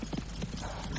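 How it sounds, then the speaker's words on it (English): Hooves of a horse galloping on a gallops in a radio drama scene, a quick irregular clip-clop of several soft thuds over a muffled background. "Rein in that horse!"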